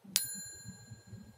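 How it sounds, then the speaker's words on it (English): A single bright bell ding rings out as a subscribe-reminder sound effect, a sharp strike with a ringing tail over soft low background murmur. "click the little bell"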